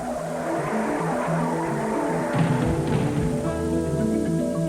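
An Indy race car crashes during Indianapolis time trials with tires squealing and skidding, a loud harsh screech over roaring engine noise that shifts abruptly midway.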